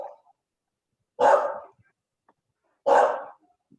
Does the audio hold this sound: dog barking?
yes